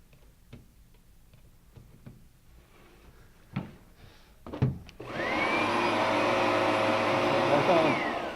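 An Oreck Magnesium RS lightweight upright vacuum cleaner is switched back on after a few quiet clicks and handling knocks, then whirs loudly and steadily at close range.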